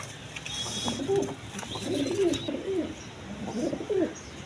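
A breeding pair of pigeons coo nearby in repeated throaty, rolling phrases with short gaps between them, clear and moderately loud over a faint background hiss.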